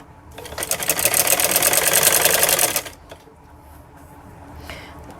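A sewing machine stitches folded fabric for a kurti sleeve, running in one steady, fast, loud whir for a few seconds before stopping, leaving quiet room noise.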